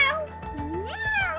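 A person imitates a cat with a single drawn-out, rising meow, close and clear, as part of a playful pet-guessing game.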